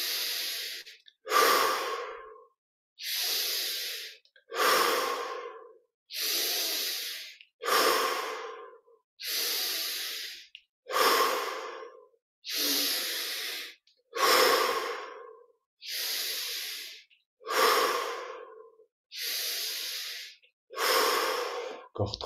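Slow, deep breathing during a guided meditation, with about a dozen evenly spaced breaths, each a full airy inhale or exhale separated by short silences, close and clear.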